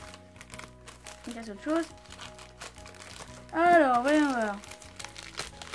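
Plastic packaging of a Dragon Ball figurine crinkles and rustles close by as it is opened, soft handling noises running under someone speaking French.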